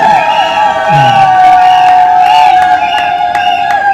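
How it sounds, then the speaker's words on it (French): Wedding guests at a civil marriage ceremony cheer with loud, sustained high ululating cries and whoops, while scattered sharp claps punch through the close, lively crowd noise. "Il n'y a pas plus de joie dans vos applaudissements,"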